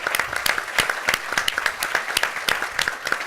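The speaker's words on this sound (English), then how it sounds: "I think we ought to all give them a round of applause" Audience applause at an Urban Institute changemaker forum, a steady burst of many hands clapping close and lively, with sharp individual claps standing out and no talking over it.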